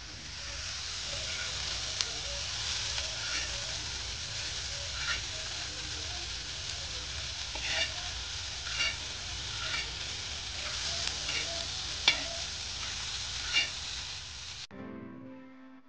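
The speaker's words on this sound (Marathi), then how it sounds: "चुलीवरती हे बघा लाल कांदा भाजून असा घेतला आहे" Red onion masala roasts on a griddle over a wood-fired clay stove, making a soft continuous sizzle dotted with small crackles and pops before it cuts off abruptly at the end.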